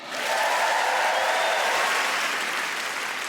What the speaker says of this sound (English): Round of applause for Leon.